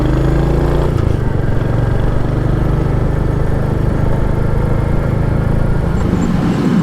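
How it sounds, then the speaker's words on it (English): A 2023 Royal Enfield Hunter 350 motorcycle engine runs with a steady, low, even thrum, loud and close throughout with no talking. "This engine just has such a pleasant thrum to it"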